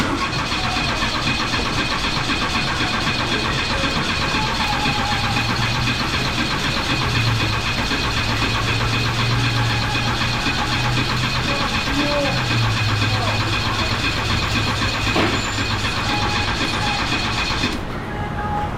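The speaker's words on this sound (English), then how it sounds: "Let's go ahead and crank this and see if she's gonna fire up." A carbureted engine whose fuel pump must first fill the carb bowl is cranked over and begins catching, a steady low mechanical churn running throughout with rising surges, close and loud.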